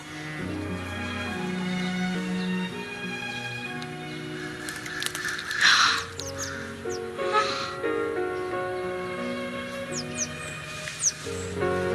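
A crow caws a few harsh times against a steady musical backdrop, the calls scattered and moderately loud.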